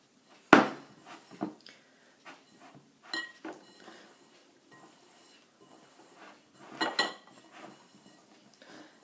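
Flour and butter worked together for shortcrust pastry dough in a mixing bowl: irregular clinks and scrapes of a utensil against the bowl, a sharp knock near the start, then quieter intermittent scraping.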